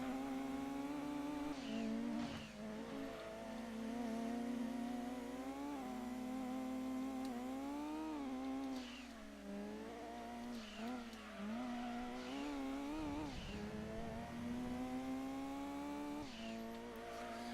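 A racing car engine from the video game Gran Turismo 2 drones and revs continuously, pitch rising and dipping through gear changes with brief drops, loud and steady without talk.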